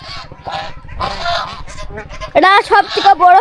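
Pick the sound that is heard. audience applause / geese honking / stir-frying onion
geese honking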